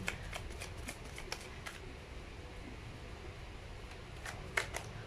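Playing cards are shuffled in real time, giving soft repeated riffling bursts and flutters at close range over a quiet background, with no talking.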